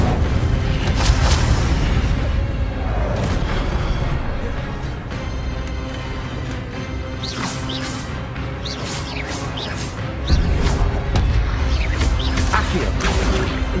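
An Incendio fire spell in Hogwarts Legacy bursts with booming, whooshing blasts, several loud hits over a rumbling, crackling backdrop.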